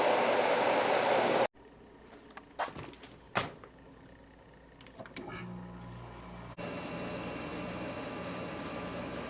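An 8,000 BTU GE (Samsung-made) window air conditioner runs with a loud, steady whooshing roar that drops out briefly amid scattered clicks and knocks, then resumes at full strength.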